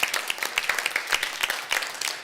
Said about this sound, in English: Come on, give me a clap.